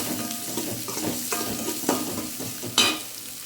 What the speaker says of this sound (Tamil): பெரிய வெங்காயம் போடுறோம், லைட்டாக ஒரு வதக்கு வதக்குவோம்